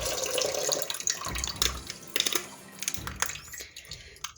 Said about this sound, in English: so then you just take the liquid and dump that into your pot